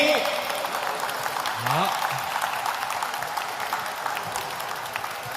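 A room of people at a celebration party clap to welcome the general manager, a steady wash of applause continuing under a host speaking into a microphone.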